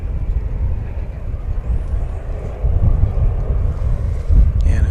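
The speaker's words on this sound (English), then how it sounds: "A350-1000 we're about to see." Airbus A350-1000 jet arriving from Doha on final approach at DFW Airport, a steady low roar that swells slightly louder toward the end, heard from a distance outdoors with wind buffeting the microphone.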